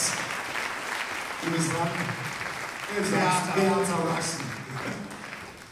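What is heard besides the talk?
audience applause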